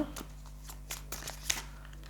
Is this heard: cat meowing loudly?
no